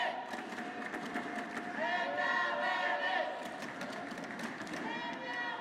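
Badminton arena crowd cheering for Lindaweni Fanetri during a women's singles group match at the 2014 Axiata Cup, a sustained roar that swells in the middle and stays loud throughout, with whistles and shouts mixed in.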